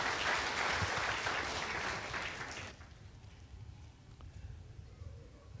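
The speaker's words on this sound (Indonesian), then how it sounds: "Tepuk tangan buat kemuliaan nama Tuhan" Congregation applauding during a church sermon, a dense burst of clapping for a couple of seconds that stops abruptly, leaving quiet room noise with scattered faint taps.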